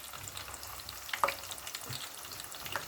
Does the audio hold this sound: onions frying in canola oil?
yes